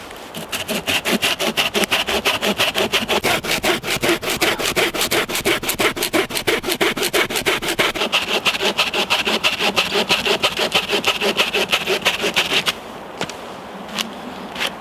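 A Laplander folding saw cuts through a wood log roughly four inches thick with fast, steady back-and-forth rasping strokes. The strokes run continuously and loud for about twelve seconds, then stop abruptly, leaving quiet.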